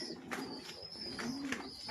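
Pet birds cooing softly in a few short repeated calls, faint and low against a quiet background with no talk.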